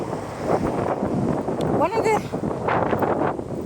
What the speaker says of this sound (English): Blimey, this wind, I hope you can hear me.